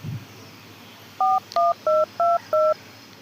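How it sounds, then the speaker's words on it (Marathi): A phone keypad sounds five short, evenly spaced touch-tone beeps as a number is dialed, each clear and close against faint background hiss. "मी बाबाला फोन लावस पहिले"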